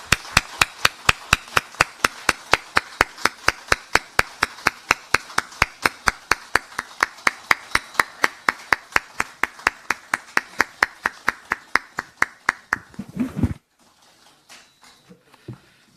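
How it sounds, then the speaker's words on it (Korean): People at a formal signing ceremony for a water infrastructure cooperation agreement clap on cue, a long run of crisp, evenly spaced claps over about thirteen seconds that stops abruptly, leaving faint room noise. "자, 박수."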